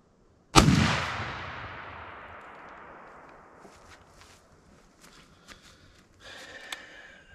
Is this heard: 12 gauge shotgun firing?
yes